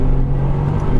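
Tuned 2018 Mercedes-AMG GT R engine revving hard while accelerating out of a hairpin on a road drive, a loud, close, rising exhaust roar with no talking.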